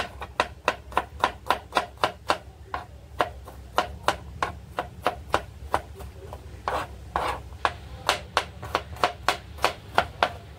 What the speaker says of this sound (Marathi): आता आपण याला बारीक चिरून घेऊया, असं बारीक चिरून घेऊया